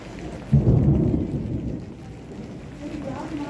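Rain falls steadily while a low rumble of thunder rolls in near the start and fades out.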